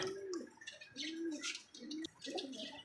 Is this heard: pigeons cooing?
yes